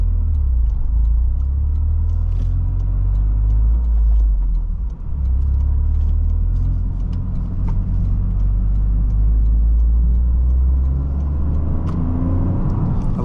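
A 2023 Toyota Corolla GR engine hums steadily while driving, a continuous low rumble with road noise and a faint whistle above it, constant and close.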